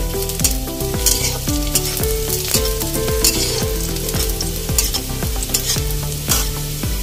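A dried red chili drops into hot oil for a mutton paya curry, sizzling and frying continuously while a utensil stirs in steady rhythmic scrapes, close and loud with no talk.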